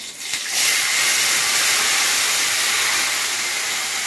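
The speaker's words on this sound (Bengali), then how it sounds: "এরপর দিয়ে দিচ্ছি পেঁয়াজ বাটাটা।" Onion paste drops into hot oil for a Bengali fish curry, bursting into a loud, steady sizzle that starts abruptly and holds as a bright hiss close by.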